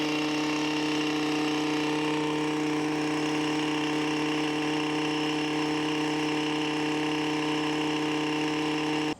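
A Stihl Yard Boss tiller engine runs without its weight attached and with the wheel kit strapped up, holding a steady, even idle-like hum for the whole stretch, close by with no talking.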